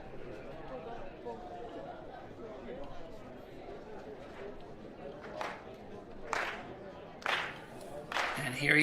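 A stadium crowd at the Lisbon athletics meeting claps in loose bursts that grow louder toward the end, under steady murmur and a voice talking.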